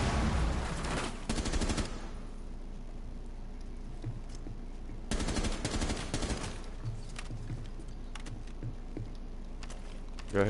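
Gunfire in Rainbow Six Siege, two bursts of rapid automatic shots a few seconds apart, loud and close, with quieter clicks and handling sounds in between.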